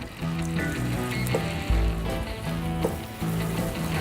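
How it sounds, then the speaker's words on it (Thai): Loud, continuous sizzling of beef burger patties frying in hot oil in a pan, a close, steady crackle with occasional brief pops and a short clatter. "ทอดในกระทะ"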